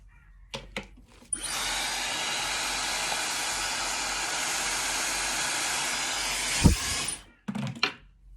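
A hair dryer blowing on bangs roars steadily and loud for about six seconds, switched on after a couple of clicks and shut off with a soft thud, followed by a few brief handling sounds.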